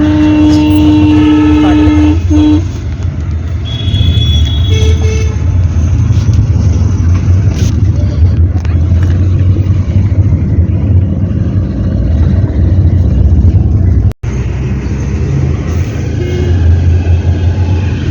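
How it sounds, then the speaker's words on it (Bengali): Inside a cab travelling along a district road, a steady low engine and road rumble fills the space, with a few brief tonal horn-like sounds early on and a sharp knock near the end. "আমরা বেরিয়ে পড়েছি আবার ওই ক্যাবে উঠে গেছি আর জেলা রাস্তা দিয়ে আসছি"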